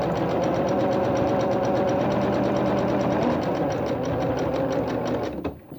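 A sewing machine fitted with a twin needle runs a zigzag stitch, a steady fast rhythmic whirring and clatter that continues loudly for several seconds before stopping abruptly near the end.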